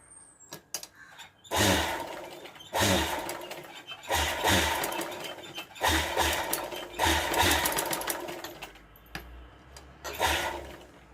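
A sewing machine stitches a blouse sleeve in several short whirring runs of rapid needle strokes, pausing between bursts as the fabric is turned.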